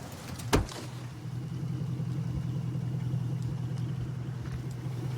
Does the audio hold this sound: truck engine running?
yes